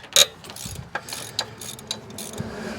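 A ratchet with a 12 mm shallow socket backs out the clutch slave cylinder bolts on a Honda, giving a few short, close mechanical clicks spread across a couple of seconds against quiet workshop background.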